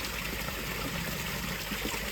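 Water trickles and splashes steadily into a garden fish pond as it is topped back up after a partial water change, a soft constant hiss heard close and alone.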